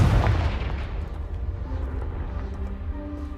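A Confringo fire spell blasts a pile of debris in the Hogwarts Legacy video game: a single loud, close boom that rumbles and fades slowly over a few seconds.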